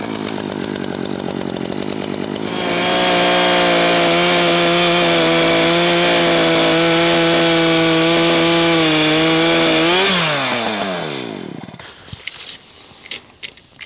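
Chainsaw cutting a log at a sawmill, starting with an idle putter, then rising into a loud, sustained, high-revving whine through the wood for several seconds before winding down, with small clunks after.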